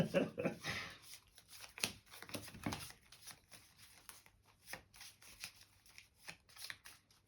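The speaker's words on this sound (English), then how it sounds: "Do a proper shuffle because all my cards will be together." Playing cards for the board game Undaunted 2200: Callisto being shuffled close up, a long run of soft riffling and flicking bursts, with quiet talk mixed in.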